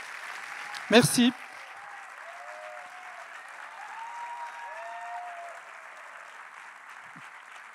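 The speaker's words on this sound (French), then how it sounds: "il faut vraiment beaucoup applaudir Christian" An audience applauds Christian at a festival opening ceremony, a steady spread of clapping after a brief loud burst near the start, with a voice speaking over it.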